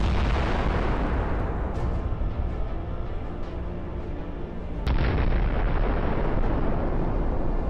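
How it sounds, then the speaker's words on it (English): A Javelin missile strikes a vehicle in a convoy in a combat zone, heard as a loud sustained roar of blast and rumble with a sharp sudden surge near the five-second mark, distant and echoing. "The javelin hits its target."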